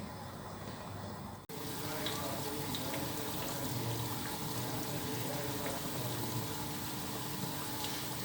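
Chicken kofta frying in hot oil, giving a steady, fairly loud sizzle that starts abruptly after a brief quieter moment and carries on evenly with no talking.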